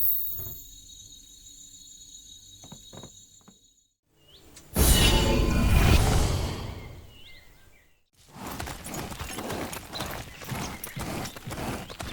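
Horse hooves clip-clopping under a mount in a medieval RPG, with a quieter passage, a loud rushing burst of movement in the middle, then steady busy trotting.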